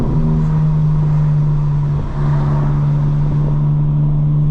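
Interior view of a 2025 BMW M4 Competition xDrive cruising around Destin, Florida, its engine holding a steady deep drone with mild road rumble, loud and close with no voices.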